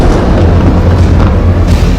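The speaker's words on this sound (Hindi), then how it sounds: "हिजबुल्लाह का दूसरा धमाका," A loud, heavy explosion rumbles continuously, with deep booming energy and a few sharper bursts layered over the sustained roar.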